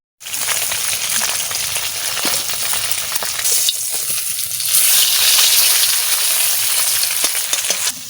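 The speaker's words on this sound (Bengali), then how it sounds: "কই মাছটা বসাই দিচ্ছি কই মাছটা ভাজা হতে লাগে" Koi fish frying in hot oil in a pan in a home kitchen, a loud continuous close sizzle that swells and crackles, with occasional stirring and no voices.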